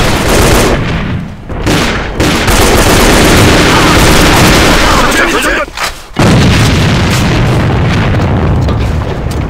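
Grenade blasts in the A.V.A first-person shooter, loud booming explosions mixed with rapid gunfire, filling nearly the whole stretch with a brief drop before another heavy burst.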